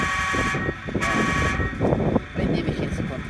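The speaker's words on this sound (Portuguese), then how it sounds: "Se eu quiser só buzinar." A Tamiya 1/14 scale RC truck model, a Mercedes Actros 3363 8x4, sounds its electronic horn in steady honks near the listener while someone talks over it.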